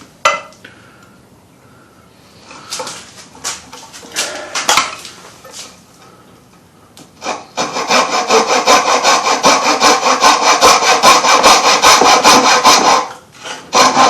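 A coping saw cuts wood while building a cigar box mandocello. A few scattered rasps and scrapes come first, then rapid, loud, rhythmic back-and-forth sawing strokes follow for about six seconds, close to the mic, with no talk.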